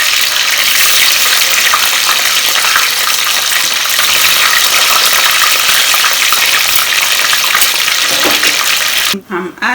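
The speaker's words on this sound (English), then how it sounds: "I have on fire my oil, which is heated, so I'm going to fry" Meat frying in heated oil while waakye is being prepared, a dense continuous sizzle that stays loud and steady throughout, cutting off sharply right at the end.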